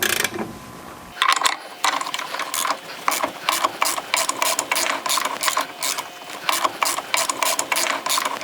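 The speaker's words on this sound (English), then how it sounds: "put our arm here over our 36mm nut and hook up our ratchet here" Ratchet cranks a 36mm nut loose on a Porsche 356 brake, giving a loud, close run of rapid rhythmic clicking bursts that repeat steadily after a brief quiet start.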